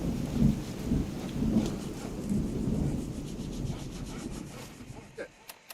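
Steady rumbling rain in the video game Fallout 4, with a low, rolling thunder-like wash, continuous and fairly loud, thinning out near the end.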